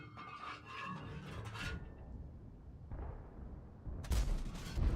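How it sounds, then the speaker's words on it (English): Tank cannon fire from a T110E5 in the game World of Tanks: a muffled, fairly quiet boom midway followed by a sharper, louder blast near the end over low rumbling background. "But finally, one of our shots sails straight and true."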